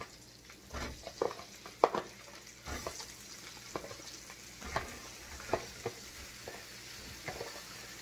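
Shrimp going into a hot frying pan for a family dinner, a steady close sizzle with scattered pops and stirring scrapes that rise and fall.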